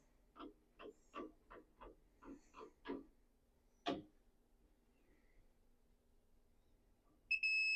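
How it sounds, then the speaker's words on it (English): A Kaiweets KT301P circuit breaker finder scanning a panel: a string of short electronic chirps repeats about every half second, then pauses; a single louder chirp follows, and a steady high tone begins at the end. "Got a beep there"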